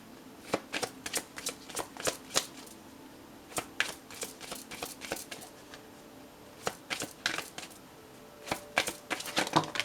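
Tarot cards being shuffled and drawn by hand, a close series of quick crisp riffling flicks that arrive in irregular bursts with short pauses between, fairly quiet and without talk.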